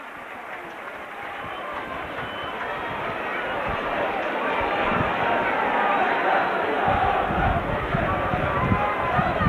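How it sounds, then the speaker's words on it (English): Rugby league crowd at a Featherstone Rovers versus Wigan match in 1993–94 erupting into a broad, rising roar that grows louder over several seconds, with a commentator speaking over it. "this crowd absolutely erupts with delight"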